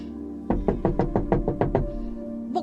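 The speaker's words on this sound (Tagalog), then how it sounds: "May kumakatok sa pinto." A door is struck in a quick, even run of eight firm knocks, close and forceful, followed by a brief quiet stretch and a faint new sound at the very end; the knocking comes in a radio-style horror drama.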